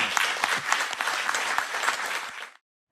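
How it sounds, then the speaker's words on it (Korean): Dense applause from committee members and officials in a South Korean National Assembly culture committee, celebrating a Korean author's Nobel Prize in Literature, with sustained clapping that fades out near the end. "크게 박수 한번 주세요."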